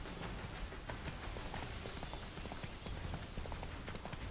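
Roach, the horse in The Witcher 3, approaches at a quick, steady clip-clop gait. The hoofbeats are dense and even over a constant game background, with no speech.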